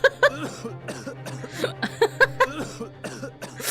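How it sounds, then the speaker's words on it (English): A stock cough sound effect from the video game The Great Ace Attorney Chronicles plays as a series of short, close coughs and throat clearing, mixed with brief vocal sounds. "It's the most, like, stock-sounding cough sound I've ever heard in my life."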